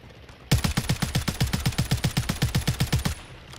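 Rapid automatic gunfire aimed at a helicopter in a video game: one continuous burst of about twenty evenly spaced, punchy shots lasting roughly two and a half seconds, loud and close, then stopping abruptly.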